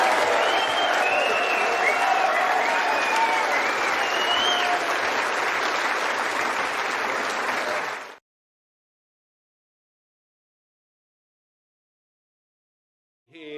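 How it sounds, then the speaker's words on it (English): A snooker crowd applauds loudly after the final of the Champion of Champions tournament, a dense, even roar of clapping with some crowd noise that cuts off abruptly, followed by silence. "may we have a round of applause for an absolutely brilliant final"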